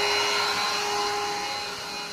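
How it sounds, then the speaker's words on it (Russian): A boat air compressor powering a smoke generator on a homemade smokehouse for smoking bream runs with a steady, even drone and a constant hum, close and with no one talking. "подключил вот такой вот компрессор лодочный"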